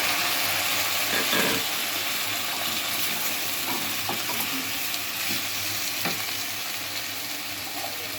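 Onions fry in a pan for a Chinese-style vegetable dish, giving a steady, close, hissing sizzle throughout with occasional soft crackles and stirring clicks, and no one speaks.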